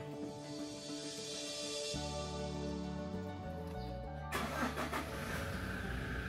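A vehicle engine is started nearby: a few seconds of cranking, then it catches and settles into a louder, steady running rumble.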